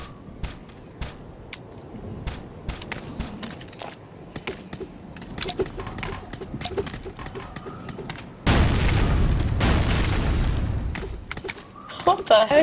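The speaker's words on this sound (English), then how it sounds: "The grenade opened a tunnel" Grenade blasts and gunfire go off in the blocky shooter game Ace of Spades during a capture-the-flag match. Sharp pops and bangs sound through the first part, then a loud sustained boom rumbles on afterward.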